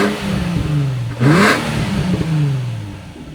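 A V10 car engine fires up and revs, the pitch climbing and falling through a couple of sharp throttle blips with a brief clattery catch at startup, loud and close with no voices.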